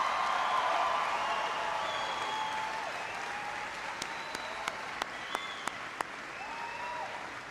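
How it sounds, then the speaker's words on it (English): A crowd at a Los Angeles town hall with the mayor applauds in a dense, steady wash that slowly fades, with a few sharper claps standing out toward the end. "Please give a huge round of applause to your Mayor Antonio Villaraigosa."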